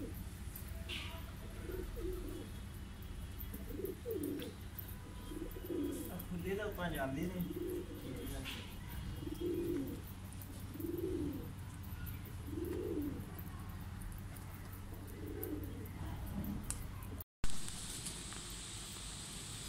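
Kaldumaa pigeons coo softly at a distance, with a series of about eight low, rolling coos spaced a second or two apart over a quiet background hum.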